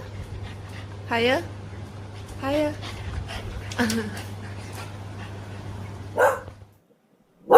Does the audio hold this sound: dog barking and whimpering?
yes